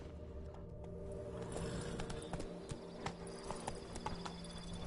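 In The Witcher 3, the horse Roach gallops in a steady, rapid clip-clop of hooves, up close and fairly quiet, over a low constant game background hum.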